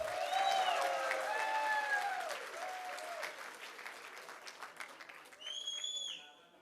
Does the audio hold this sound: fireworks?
no